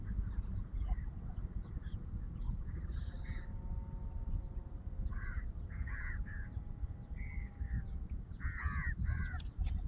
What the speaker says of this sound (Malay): Oh, ada burung lah.